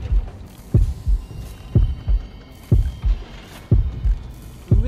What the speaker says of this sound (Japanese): また心音ドクンドクンなってますね。